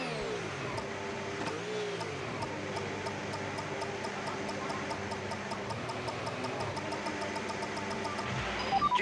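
Racing car engine idling on the starting grid of a video game, a steady continuous drone with a rising rev near the end, loud and close with no talk.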